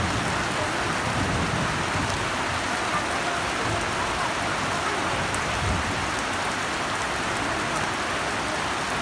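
Heavy rain during a storm at a home in Nakhon Phanom, Thailand, drums down as an unbroken, dense hiss of falling water, steady and fairly close throughout with no talk.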